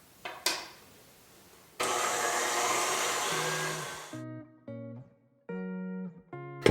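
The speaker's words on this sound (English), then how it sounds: "let's whisk it all together now." An electric whisk beats strawberry-colored meringue, a steady whirring drone for a couple of seconds, then a run of short on-off motor bursts at shifting pitch, close and moderately loud.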